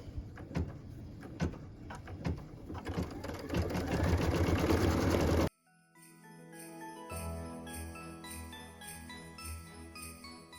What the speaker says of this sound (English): So machine step 11 is stitching the 2 square window detail